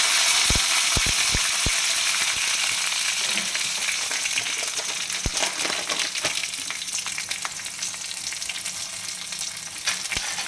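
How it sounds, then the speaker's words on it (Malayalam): Mustard seeds spluttering in hot oil for a Kerala mango pulissery, a steady loud sizzle broken by sharp irregular pops and crackles, several clustered early and more scattered through, with no talk. "ഇനി നമ്മൾ കടുക് പൊട്ടിക്കുകയാണ്."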